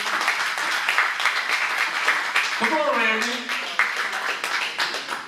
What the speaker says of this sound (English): please put your hands together and give a nice warm welcome